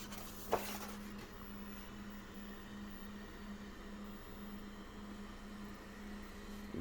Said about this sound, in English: that melts the styrofoam and cuts through it like butter